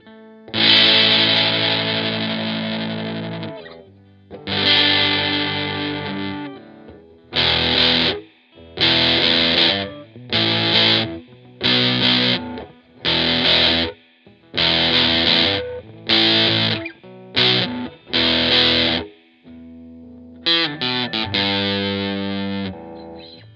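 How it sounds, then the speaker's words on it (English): A Traveler EG1S electric guitar played through an overdrive effect, loud distorted chords struck in a series of short rhythmic bursts separated by brief silences, ending with a longer sustained passage. "Click again and you get the overdrive."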